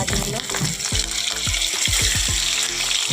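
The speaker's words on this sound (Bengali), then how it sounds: "চলো এই মাছগুলো আগে ভেজে তুলে নিই।" Katla fish pieces fry in hot oil in a pan, a dense close sizzle with repeated clicks and scrapes as they are turned, loud and continuous.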